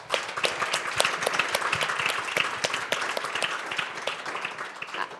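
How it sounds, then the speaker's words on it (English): Audience applause for panelists at the DigiEduHack 2024 main stage event: a steady round of many hands clapping, fairly close and even in level for several seconds, without talk over it. "if you could join me for a big round of applause to our panelists here"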